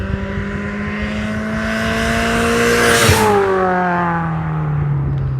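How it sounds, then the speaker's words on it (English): A supercharged Mazda MX-5 NC drives past with a loud engine note that rises as it nears, then drops in pitch as it goes away. A thin high whine rides along with the exhaust. "hear ever so slightly that supercharger belt whining"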